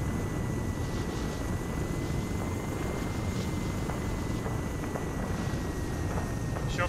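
An aircraft comes in to land in Arma 3, its engine a steady, broad drone with a faint high whine held constantly, and wind-like rumble underneath.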